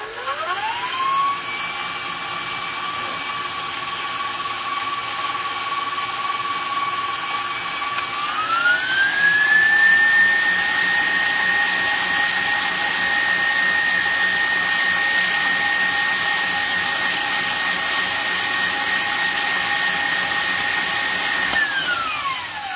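Stand mixer with a whisk attachment beating tres leches cake batter on medium to high speed, a steady motor whine that ramps up partway through and holds for a long stretch before winding down.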